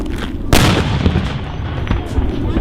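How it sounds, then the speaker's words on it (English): A flashbang stun grenade goes off in one sharp, loud blast that rings out and decays into a rumbling, noisy tail, with scattered crackles and thumps following. "Right, so flashbangs."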